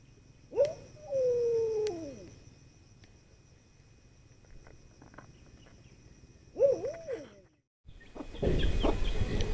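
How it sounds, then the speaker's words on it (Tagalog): Chickens on a rural Philippine farmyard cluck and squawk in two short bursts, near and fairly loud, with insects chirring steadily underneath and a louder rustling noise at the end. "Huliin natin yung manok, ha?"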